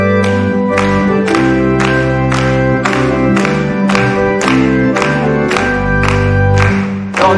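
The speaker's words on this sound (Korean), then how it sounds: "우리 박수하시면서 찬양하십시다" A church congregation claps in a steady, evenly spaced beat while singing a hymn with instrumental accompaniment, each clap sharp and regular over the sustained music.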